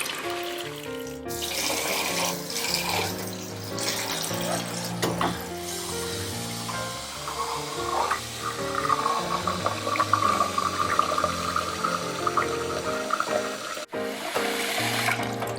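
Tap water runs steadily into a sink to soak small squid being prepared for brown squid, a continuous rushing flow over background music, with a brief break near the end.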